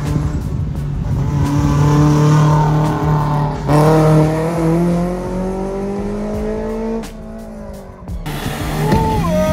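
A BMW rally car engine screams nearby, revving and shifting through gears with tire squeal, rising and falling pitch as it passes; no voices.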